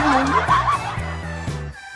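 Short, quick squawks from a duck, close and lively, in a brief burst that trails off.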